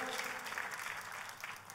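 Congregation applauding for God during a church sermon, a dense, faint wash of clapping with no break.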